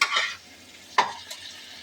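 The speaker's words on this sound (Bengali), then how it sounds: "ভালো করে এটা নাড়িয়ে নিই।" A spoon stirring chhana jhal, a cottage cheese curry, in a pan: two short scraping strokes with a soft sizzle between them, close and quiet.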